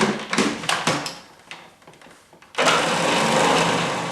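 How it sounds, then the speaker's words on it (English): Lid clatters and scrapes sound, then a blender roars to life at full power, blending black bean meatball mix with a loud, steady whirring grind. "And then I'll put the lid back on and blend it again."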